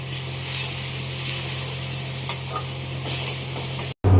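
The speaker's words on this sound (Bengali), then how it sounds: "মাছের ঝোল এখন ফুটছে, আলু সিদ্ধ হচ্ছে আর কি।" Bengali fish curry with potatoes, spiced with cumin, ginger, chilli and garlic, boils in a pan, giving a steady bubbling hiss with a low hum beneath it. The sound cuts off abruptly near the end.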